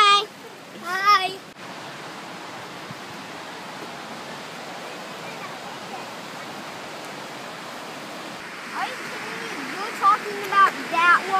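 Multnomah Falls pours in a steady, broad hiss of falling water heard from a distance, with a child and an adult briefly talking at the start and end.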